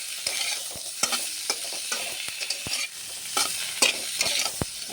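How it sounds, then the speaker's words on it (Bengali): Small puti fish curry is stirred and fried in a pan, giving a constant sizzle. Sharp scraping clicks from a spatula against the pan break through at irregular intervals, up close with no voices. "এখন একটু মিশিয়ে নিয়েছি আর একটু ভেজে নেব"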